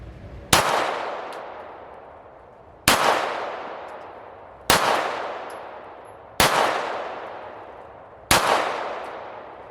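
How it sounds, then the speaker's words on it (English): An FN FNS9 pistol fired at maximum load at a target, five sharp loud shots spaced roughly two seconds apart, each followed by a ringing decay outdoors. "even at the maximum load, recoil was very manageable on that round"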